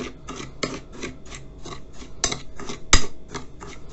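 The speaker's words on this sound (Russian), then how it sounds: "Все это размешиваем хорошенько." A spoon stirs a dry curing mix of salt and turmeric for cold-smoked pike in a bowl, making a steady rhythmic scraping of about ten strokes with a couple of sharper clinks, close and alone.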